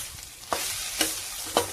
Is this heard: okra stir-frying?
yes